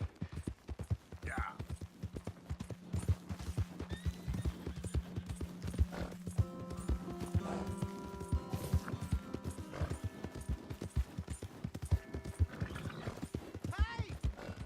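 Horse hooves clip-clopping in the video game Red Dead Redemption 2, a steady rhythmic trot with a whinny, under game voices and occasional mechanical clanks.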